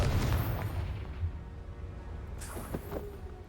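A muffled, low booming blast from the Confringo explosion spell in Hogwarts Legacy opens the moment, followed by a fainter secondary burst and crackling debris.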